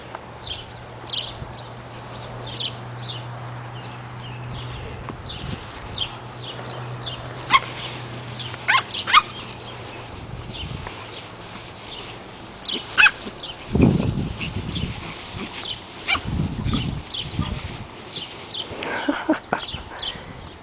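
A dog gives short barks and soft whimpers amid background noise and some movement sounds, with a low steady hum early on and bursts of activity near the end.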